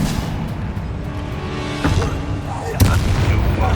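A Confringo blast spell from Hogwarts Legacy bursts with a booming explosion near 1.8 s, then a second, louder blast near 2.8 s, over a steady rumbling game background.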